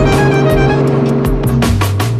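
Public passenger vehicle used for getting off Talim Island, its engine running loud and steady with harmonic hum and shifting revs close by.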